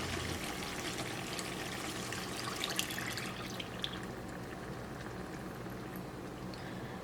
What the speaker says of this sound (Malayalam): അതനുസരിച്ചിട്ട് ഇതിലേക്ക് നമുക്ക് കുറച്ച് വെള്ളം ചേർക്കാം.